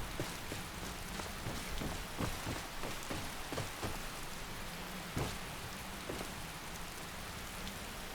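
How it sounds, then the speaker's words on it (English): Steady rainfall in the fantasy video game Skyrim, a dense patter of drops on surfaces with scattered louder splats, continuous and fairly soft with no voices. "Listen to the rain."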